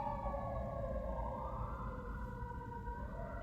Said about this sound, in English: I'm sorry if you hear those sirens.